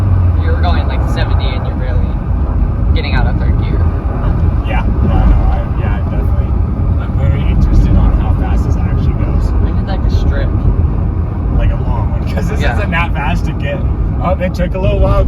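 Subaru with a cold air intake running fast in third gear, a loud, constant roar of engine and road and wind noise inside the car while people talk over it.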